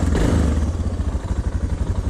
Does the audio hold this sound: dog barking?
no